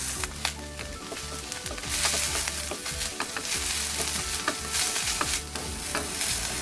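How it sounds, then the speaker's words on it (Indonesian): Garlic, shallots and ginger sizzle steadily in a hot pan, a dense continuous frying hiss with scraping stir strokes and clinks throughout, loud and close with no talking. "Tumis hingga bau harum"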